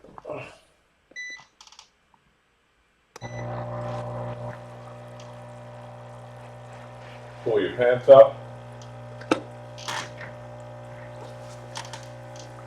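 A Neprock heated foot spa massager switches on after a few beeps and settles into a steady low motor hum with bubbling water, and a person speaks briefly over it.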